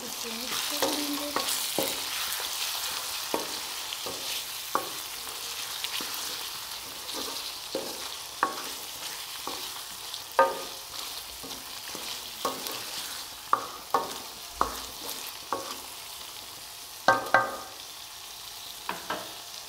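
Chicken karahi with turmeric is stirred in a pan over a continuous sizzle, with repeated sharp scraping and clinking strokes of the spoon coming at an uneven rhythm, close and clear with no talk.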